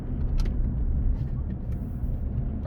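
Steady car engine and road noise hum inside a vehicle moving through traffic as another car overtakes, with a faint voice audible over the drone.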